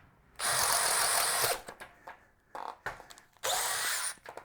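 A DeWalt 12-volt cordless drill with a 1/2-inch bit whines loudly boring a hole in two long bursts with a short, stuttering run between them, close and alone, the motor surging as the bit bites.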